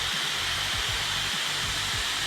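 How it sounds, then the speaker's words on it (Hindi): A Dyson hair dryer runs at a steady, smooth whoosh of airflow, a constant close hiss with a faint low hum underneath and no talking. "डायसन को चालू करते हैं"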